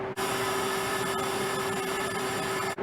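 Loud, steady mechanical hum with a strong tonal drone from a refrigeration or cooling unit left running while trays are unloaded, continuous and close throughout, with no talk.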